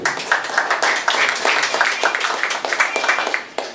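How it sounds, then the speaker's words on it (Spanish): A crowd applauds with dense, steady clapping that carries on throughout, fairly loud and close, tapering slightly near the end. "Un aplauso para él."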